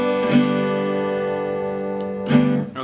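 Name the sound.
guitar strings in open D tuning played together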